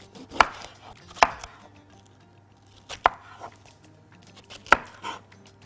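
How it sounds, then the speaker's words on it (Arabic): Knife chopping vegetables into cubes on a board while preparing grilled chicken kofta: four sharp, separated knocks spaced irregularly, close and clear against a quiet kitchen background. "هقطعه كده ايه مكعبات"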